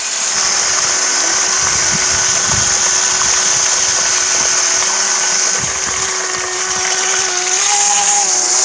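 A small battery-powered mini water pump runs continuously, a steady high motor whine with a rough buzzing edge that holds unbroken and loud throughout, with no talking.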